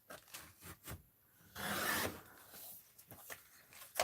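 Scissors cut through a brown paper bag being made into journal pages, a single rasping, crackling cut of paper lasting about half a second, close by and fairly quiet, amid softer handling rustles.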